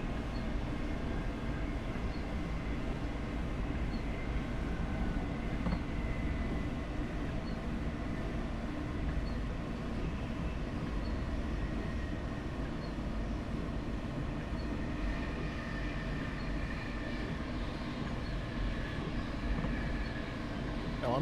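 Simulated Class 91 locomotive cab in Train Sim Classic, with a continuous low rumble of wheels and motors and a steady drone that holds through the braking without clear sharp events.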